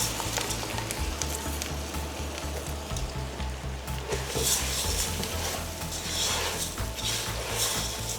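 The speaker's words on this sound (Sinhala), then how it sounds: "දැන් අපි හාල් ටික එකතු කරගමු." Rice stirred into a pot for tandoori chicken biryani, a steady sizzle with scraping and stirring sounds close up, with a low rhythmic hum beneath and no talk.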